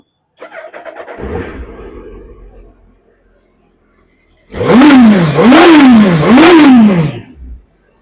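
A 2020 Suzuki Hayabusa Gen2 motorcycle with only 618 km on it fires up and idles low, then after a pause gives three loud, close throttle blips that rise and fall in quick succession before settling.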